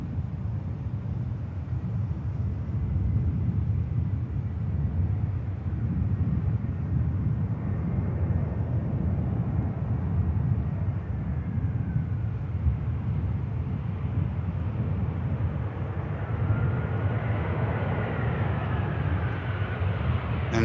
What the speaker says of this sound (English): EasyJet next to touchdown. I think. Yep, EasyJet in from Barcelona.